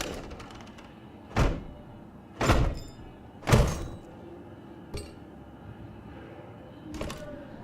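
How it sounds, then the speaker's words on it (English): A door in Life is Strange opening noisily: a series of sharp knocks, clunks and metallic clinks, five distinct impacts spread irregularly over several seconds against a quiet indoor background. "that was a very discreet way of opening that door"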